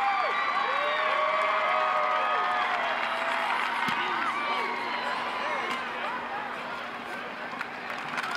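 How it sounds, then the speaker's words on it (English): A college football stadium crowd roars continuously at a Mizzou versus Vanderbilt game, a broad distant swell under a commentator's voice that slowly fades toward the end. "You can hear the crowd."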